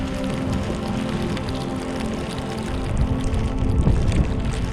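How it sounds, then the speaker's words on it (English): Hail falling during a stay in Bolivia, a dense, steady patter of hard pellets striking surfaces, growing slightly louder and heavier toward the end. "Hailing now."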